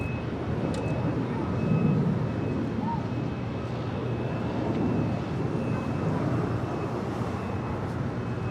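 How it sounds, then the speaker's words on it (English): Alaska Airlines A321neo jet departing LAX, its engines producing a broad, steady roar that swells slightly and holds at constant loudness, with faint radio chatter and other airport noise underneath. "Alaska Airlines A321neo heading to Dulles"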